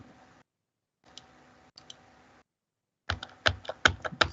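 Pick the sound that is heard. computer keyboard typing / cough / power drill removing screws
computer keyboard typing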